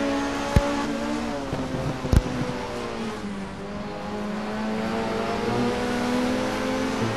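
Race cars at Watkins Glen brake hard into a corner and power away, a steady engine drone that shifts pitch as they slow and re-accelerate, with a couple of sharp knocks early on and a loud, close, continuous roar throughout.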